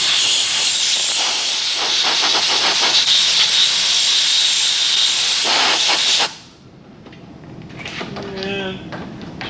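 Compressed air hisses loudly and close as it blows a machined part dry, a sustained blast lasting about six seconds before cutting off, followed by quieter shorter bursts.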